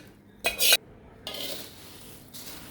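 A spoon clinks against a metal pot in a short burst, followed by a softer, steady scraping and stirring of dry puffed rice with tempered seasoning in the pan.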